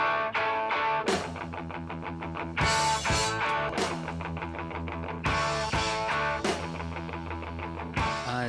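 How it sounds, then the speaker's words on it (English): High-tempo rock song with driving drums and dense, distorted guitars, loud and continuous, with hard accented hits throughout and no voices. "A rocking high tempo song lets the listener know we mean business."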